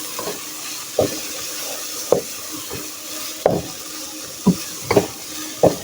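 Minced meat being fried with crushed chili, black pepper and salt in a pan for keema matar sizzles in a continuous low hiss, with intermittent scraping knocks of a spoon stirring every second or so.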